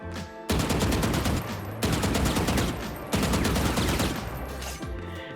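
Valorant gunfire from hip fire while shift walking: a dense, loud automatic rifle burst sounds in three long sustained strings of rapid shots, with brief breaks between them and no talking.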